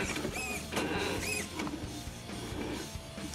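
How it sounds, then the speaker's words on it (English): The steering servo of a JLB JLB4 1/8-scale RC crawler whirs in short, strained electric bursts, close and fairly loud, with no talking. "The steering servo sounds okay, nice and big and strong."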